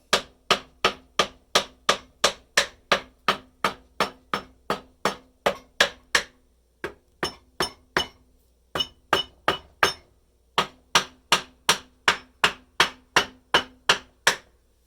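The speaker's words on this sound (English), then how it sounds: "Just tapping. I'm not beating on anything. I'm just tapping. We want to see if we can break free some of this rust." A hammer tapping on a rusty German G43 rifle to break the rust free, producing a steady run of sharp metallic clinks with brief pauses between groups, close and clear.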